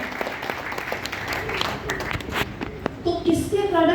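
Audience applause answering a speaker's request to clap for themselves at a Hindi-language motivational talk, a steady wash of clapping that swells toward the end, with talk over the top in the last second.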